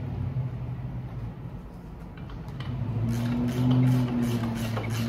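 A cheap carbureted M90 supercharger on an LS engine spins up and builds boost, a steady low engine drone rising into louder whining tones over the last two seconds.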